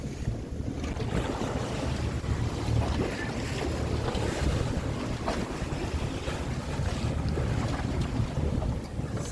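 Waves slosh and churn steadily around a moving boat on open sea outside a gulf, with constant wind buffeting the microphone throughout.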